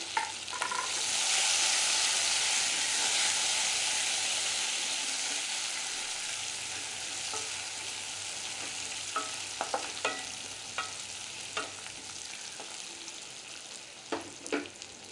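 Onion and curry leaves frying in hot oil with garlic, a steady loud sizzle that swells early and slowly settles, with scattered sharp crackles and pops toward the end, no talking.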